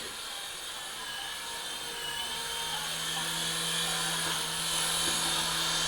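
A SYMA S50H remote control helicopter flies in a straight line with a steady, high-pitched rotor whine and motor buzz that holds throughout and grows slightly louder toward the end.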